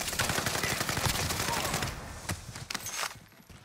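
Gunfire from Call of Duty: Warzone on Caldera crackles in rapid, dense bursts, with a sustained automatic volley that thins into a few scattered shots, while a voice talks over it.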